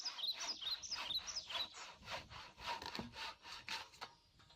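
A hand saw cuts logs to length for an off-grid log cabin, giving rhythmic back-and-forth rasping strokes, fairly faint, with birds chirping outdoors in the background.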